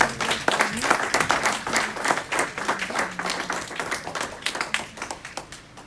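A church congregation applauding to acclaim God, dense rhythmic clapping from many hands that swells early and then gradually thins and fades, with a voice faintly under it.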